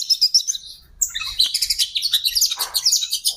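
Male oriental magpie-robin (kacer) calling in a captive setting, a loud rapid run of high chirps and whistled notes that continues almost without a break, with no voices.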